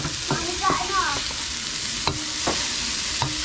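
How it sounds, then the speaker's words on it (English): Mushroom and onion being stirred and fried in a pan with mint and oregano, a steady close sizzle broken by a few scraping stirs, with no talking. "we're just cooking up the mushroom and onion with the mint and oregano in"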